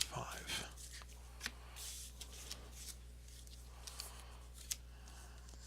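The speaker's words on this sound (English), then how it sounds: "I don't think I shuffled it up too well here" Trading cards from a Speedroid deck being shuffled by hand, a quiet series of soft riffling and rubbing sounds with small sharp flicks, close and faint over low background hum.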